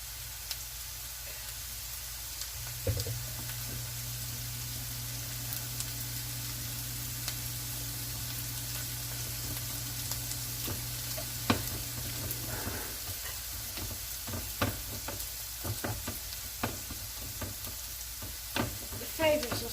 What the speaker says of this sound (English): This is so it will sear very well.